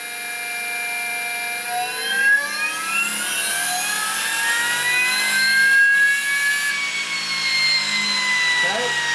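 An EMRAX 228 electric motor driven by an SD100 controller runs steadily at about 1400 RPM, giving a loud, sustained whine of layered tones that slowly shift in pitch, with a faint mechanical hum underneath.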